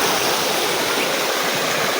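A stream flows in a continuous, loud, broadband rush of water, steady and close, with no voices.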